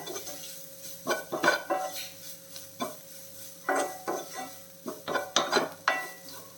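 Grated coconut mixed with salt in a pot for a drumstick leaves dish, giving irregular scraping and clinking bursts of a spoon against the pot, close and moderately loud, with no talking.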